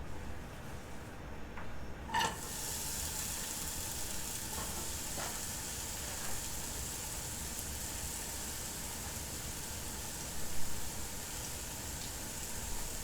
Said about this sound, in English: We are not looking to fry our onions. We're going to be caramelizing them.